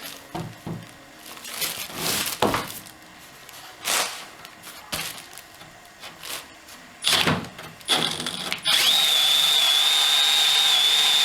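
A power drill bores through a solid wooden door, coming in several loud, short bursts with pauses, then one sustained high-pitched whine as it breaks through.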